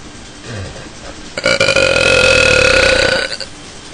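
A long, loud belch from a woman, rising after a brief pause and holding a strong tonal rumble for about two seconds before trailing off, alone with no talking.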